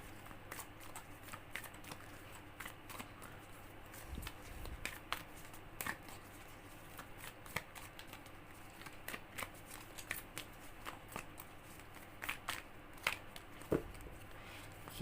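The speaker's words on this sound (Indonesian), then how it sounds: "Kita shuffle kartunya." A deck of tarot cards is shuffled close by in quick, crisp riffles and light taps that continue in uneven bursts throughout, quiet and with no talking.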